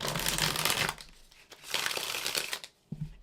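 Tarot cards are shuffled by hand in close, papery riffling bursts. Two longer rustling runs are separated by brief pauses, with no talking.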